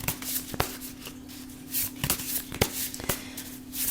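Tarot cards are shuffled by hand close up, with a run of soft riffling rustles broken by sharp slaps and snaps at irregular moments, and nobody speaking.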